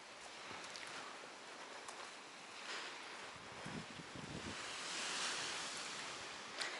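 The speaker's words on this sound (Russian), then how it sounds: "И море." Sea waves washing onto a beach, a steady broad rush of surf with gentle swells and wind noise across the microphone, continuous and fairly faint, with no voices.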